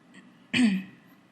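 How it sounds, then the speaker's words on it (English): One short, sharp throat clearing, close and fairly loud, in an otherwise quiet room. "Sorry that I'm clearing my throat"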